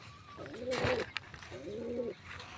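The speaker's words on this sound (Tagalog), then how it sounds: "Pero babae yan mga kalapatids." Female pigeons coo in two drawn-out, wavering phrases, moderately near, with a soft knock or clatter between them over quiet background noise.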